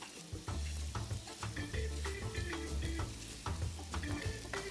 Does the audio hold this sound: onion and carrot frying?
yes